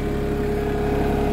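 A Branson 2505H tractor engine runs at a steady, throttled-down idle, a continuous low rumble with an even drone and no change in pace, close by with no voices.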